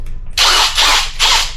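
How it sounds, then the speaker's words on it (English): A small power drill boring a tiny pilot hole into a spot weld on car body sheet metal, with three close, loud bursts of whirring grind separated by short pauses. "Looks like I'm gonna have to drill a tiny pilot hole."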